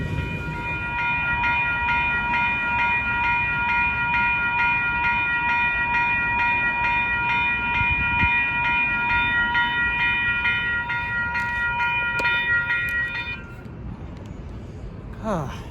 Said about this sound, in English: this frickin' train was like feet from him.